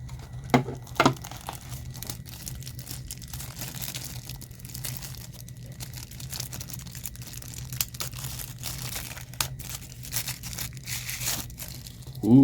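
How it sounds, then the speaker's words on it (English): Protective plastic stickers peeled off a Creality Smart Kit, a crackly tearing and crinkling that runs steadily for several seconds, with a few sharper rips near the start and a low steady hum underneath. "Let's peel off the nice peely stickers."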